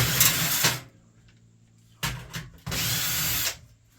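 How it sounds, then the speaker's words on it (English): A power drill whirs in short bursts while backing screws out of a device being scrapped, three separate spins with quiet gaps and faint clicks between them. "Get all these screws off."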